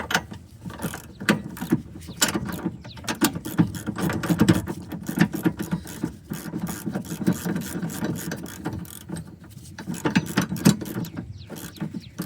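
Ratchet wrench clicking in rapid repeated bursts while bolts are tightened during a trailer hitch installation on a 2011 Honda Element, close and steady with brief pauses, no talk.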